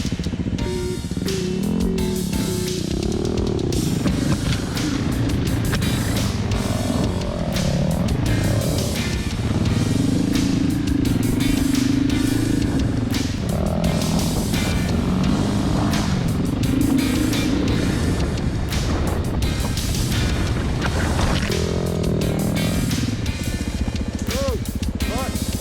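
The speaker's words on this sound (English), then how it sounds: "it was only Chris the Desert Racer and I, as we rode every single trail and made our way over towards Sphincter Pucker Hill" Several dirt bikes, including a Yamaha WR250R, a WR450F and a KTM, ride wooded trails. Engines drone and rev steadily and loudly throughout with no pauses, and speech is mixed in.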